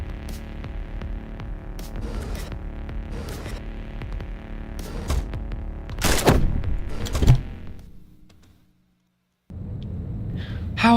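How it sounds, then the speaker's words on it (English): Loud bursts of gunfire from Heat Signature, rapid shots layered over a humming background, building to heavy blasts before dropping into near silence, then the hum returns. "I must shoot."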